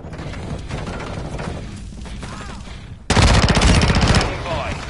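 Rapid bursts of automatic gunfire from a first-person shooter match on the El Asilo map, loud and close, with a heavier sustained volley in the final seconds and radio-style game voices underneath.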